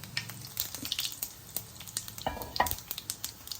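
Dried red chillies sizzle in hot oil for a tempering, a steady close crackle with bursts of sharper spattering pops and occasional stirring clinks, no voices.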